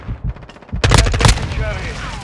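Loud, close automatic gunfire rattles in rapid bursts during a Call of Duty Mobile Blitz match, preceded by a few sharper single shots.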